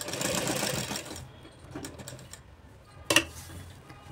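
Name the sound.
sewing machine stitching a palazzo pant pocket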